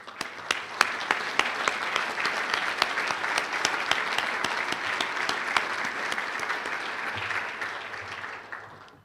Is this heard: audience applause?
yes